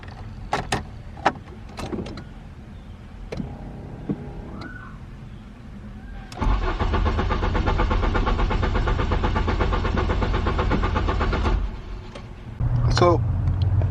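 A Mk3 VW Golf with a newly replaced fuel pump cranks on the key for about five seconds in a loud steady churn after a few clicks and shuffling sounds, then a voice comes in near the end.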